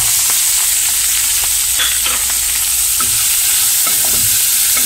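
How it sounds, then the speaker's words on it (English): Chopped green chilies frying in oil with mustard seeds, a loud continuous hiss of hot oil broken by scattered sharp pops and stirring clicks, close and without talk. "So let's add the green chilies, chopped green chilies. Fry it a little bit."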